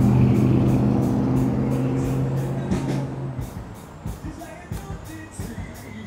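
Street traffic passing outside a restaurant in Florida, a loud vehicle engine rumbling close by and then fading, with lighter passing traffic and clicking sounds continuing afterward.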